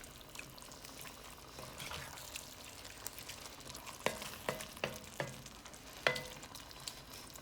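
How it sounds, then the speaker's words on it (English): Bolognese sauce with wine simmers and sizzles in a pot, a soft, steady bubbling hiss with scattered sharper pops and clicks toward the end, faint and close, with no talking. "We're going to let this simmer until it cooks off, and then add our tomatoes and our stock."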